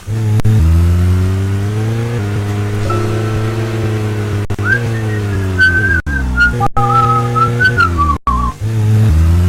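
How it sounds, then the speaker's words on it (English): A character in the Deadly Premonition DC video game whistles a wavering tune over the loud, steady drone of a car engine, with the whistling starting partway through and continuing near the end. "That was him whistling."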